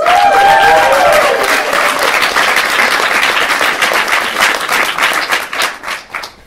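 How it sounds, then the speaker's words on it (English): A comedy club audience breaks into loud, dense applause for a stand-up comedian's family, sustained at first and then thinning into scattered claps as it fades near the end. "Please clap for my parents and my brother and my aunt."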